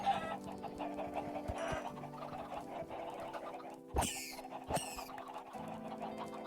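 Minecraft chickens cluck in short bursts over a steady game soundtrack, with two brief sharp squawks near the end, fairly close and moderately loud with no talking.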